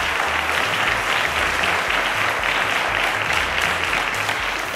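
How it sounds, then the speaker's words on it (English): A studio audience at a televised school quiz competition claps steadily, a dense, even wash of applause that holds at a constant level for several seconds. "Ladies and gentlemen, a round of applause to Iloabuchi."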